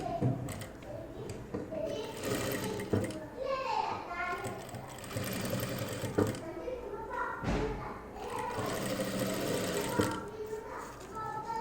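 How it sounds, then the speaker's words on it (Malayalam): A sewing machine stitches a zip along the edge of a churidar. Its steady motor whir runs beneath continuous talking, with occasional soft thumps. "അപ്പോൾ നമുക്കിതുപോലെ അങ്ങോട്ട് അറ്റം വരെ സ്റ്റിച്ച് ചെയ്ത് കൊടുക്കാം."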